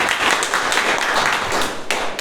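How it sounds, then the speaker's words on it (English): Audience applause at a Toastmasters club meeting: steady, dense clapping from a roomful of people, fairly close and continuous for about two seconds, with no talking over it. "Give a round of applause for Toastmaster Sefali."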